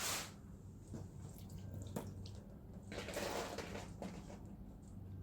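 Water poured over the waxed hood of a car coated with ceramic hydrophobic wax, a steady soft splashing and dripping with scattered drops, close and fairly quiet.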